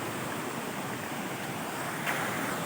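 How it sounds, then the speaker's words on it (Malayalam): Meenmutty waterfall in Wayanad pours with a steady, even roar of falling water, moderately quiet and unbroken, with a faint breezy hiss and no voices. "ഈ ഒരു മനോഹരമായ വെള്ളച്ചാട്ടം കാണാൻ പറ്റും കേട്ടോ."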